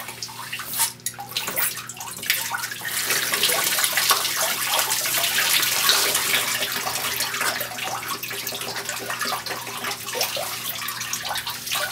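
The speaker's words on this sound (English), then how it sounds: "Now the water is expelled over the control head. A little bit of water back drains out of the tube." Water gushes and splashes out of the control head of a gold recovery pump used on bedrock cracks, a continuous close rushing spray with small surges and drips, no voices over it.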